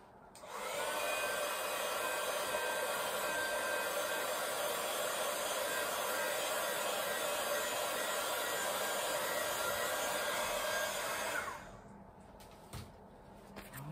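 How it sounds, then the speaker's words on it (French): A hair dryer blows steadily for about ten seconds to quickly dry children's water paint, a loud continuous whoosh that cuts off abruptly near the end. "Ensuite, un petit coup de séchage rapide."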